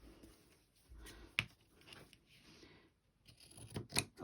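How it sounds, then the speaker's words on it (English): A few sharp scissor snips cutting through layers of fabric, close and crisp, spaced irregularly against a quiet background with faint handling noise. "Maybe we'll use scissors."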